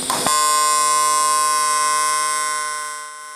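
An AC TIG welding arc on aluminum, set to 150 Hz, starts with a brief crackle and then holds a loud, steady, harmonic-rich buzz for about three seconds before easing slightly at the end, with no voices.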